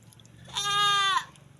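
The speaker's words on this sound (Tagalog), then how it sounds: "Kambing na yan." A goat bleats once at a pasture in Aurora province, a single loud, wavering cry of about two-thirds of a second rising clearly above faint background noise.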